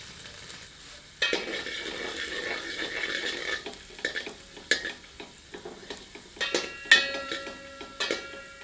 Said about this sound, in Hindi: गर्म घी में लहसुन की कलियां सम्मिलित करते हैं। आंच को मध्यम कर लेते हैं और इन्हें सुनहरा होने तक भून लेते हैं।